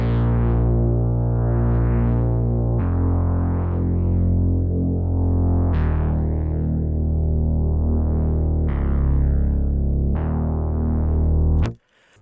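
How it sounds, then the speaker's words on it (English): A deep, sustained synth bass from an Analog Lab R&B preset bank plays long held notes that change pitch every few seconds, loud and full, alone without talk, cutting off abruptly at the end. "So we got this bass out of Analog Lab from this R&B bank"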